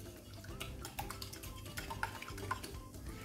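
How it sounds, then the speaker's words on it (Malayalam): Melted butter and eggs being mixed in a bowl for a pizza pan cake batter, with soft, steady stirring and light clinks of utensil against the bowl throughout. "മുട്ടയൊക്കെ നല്ലപോലെ ഒന്ന് ബട്ടറായിട്ടൊന്ന് മിക്സ് ചെയ്തെടുക്കുക."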